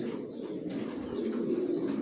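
Steady low cooing of racing pigeons fills the clip, a continuous murmur of several birds close by with no talking.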